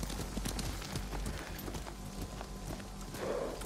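Rapid, dense hoofbeats of horses galloping in the video game Ghost of Tsushima, a constant rumbling drum of clops under heavy low noise.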